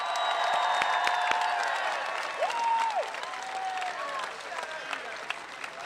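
A crowd at a celebration of a women's college basketball team's historic season claps and cheers steadily for the band and cheer team, a sustained wash of applause with a few whistles.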